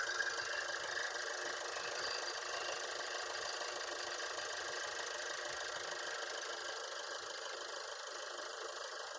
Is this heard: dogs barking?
no